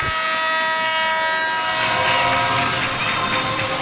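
A loud, sustained hockey arena horn blares steadily for several seconds over a busy arena background, its droning tone never letting up.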